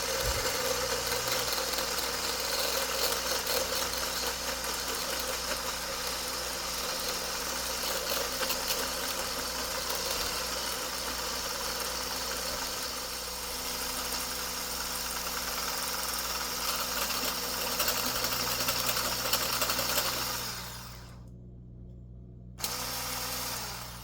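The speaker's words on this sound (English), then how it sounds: "Now let's beat up the heavy cream." An electric mixer beats heavy cream, a steady whirring motor hum with mechanical rattle close up for about twenty seconds, then switches off abruptly with a short pause and a brief restart.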